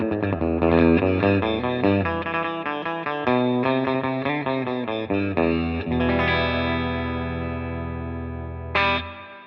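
Electric guitar played through a Peavey Classic 20 combo amp's internal reverb, a run of loud, steady chords and notes carrying a lush reverb tail, ending in one sustained chord with a brief bright scrape near the end.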